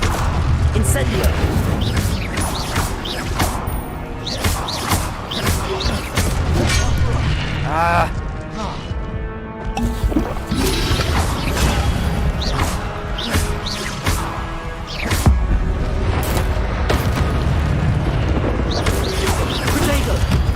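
Incendio fire spells exploding during combat in Hogwarts Legacy, with repeated loud booms and crashing bursts that come in quick irregular succession over game effects, while a player talks throughout.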